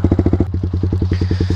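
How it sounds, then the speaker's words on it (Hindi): A Yamaha R15M motorcycle fitted with a full-system exhaust idles close by, a deep, rhythmic bassy thumping pulse with a brief blip of throttle partway through. "और साउंड सुनाता हूँ भाई तुमको कैसी साउंड आ रही है अपने एक जोस लगाने के बाद R15M में।"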